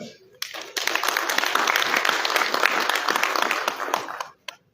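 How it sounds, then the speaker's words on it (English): An audience at the ARMFA General Assembly breaks into loud, sustained applause. The many hands clap steadily for about four seconds before the sound cuts off abruptly. "je voudrais qu'on applaudisse pour cette dame"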